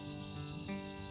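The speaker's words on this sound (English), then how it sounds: "listening to the frogs and the crickets and a whippoorwill every now and" Crickets chirp steadily at night beside the Suwannee River during solo canoe camping, a dense continuous trill with a faint insect chorus, no voices.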